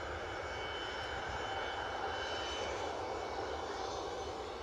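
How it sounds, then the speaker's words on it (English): A Ryanair jet from Dublin lands at Edinburgh Airport on a windy day, heard as a steady, moderately distant engine rumble with a constant hiss and no change in level. "So the Ryanair that you just saw land, inbound from Dublin"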